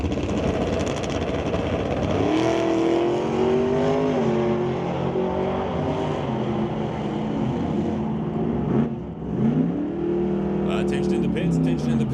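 Drag race cars, the Rad Torque Systems S10 and a Pontiac, roar at the strip with loud rising and falling engine revs that build, dip briefly and surge again, under a track announcer's voice.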